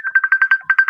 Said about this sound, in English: Somebody is calling me on Facebook.